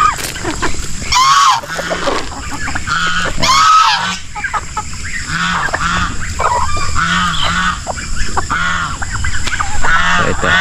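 Geese honk repeatedly on a farm alongside turkeys and native chickens, loud overlapping calls in a busy mixed flock with steady background clucking and bird noise throughout.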